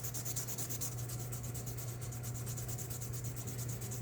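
Steady, fast back-and-forth rubbing is heard close up as a titanium knife is sanded and polished to remove scratches, with a faint low hum underneath.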